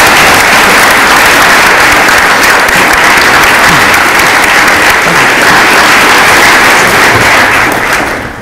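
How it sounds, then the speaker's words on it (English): Loud, dense applause from a panel audience fills the whole stretch without pause, then begins to fade at the very end. "Let's have a round of applause for Greg."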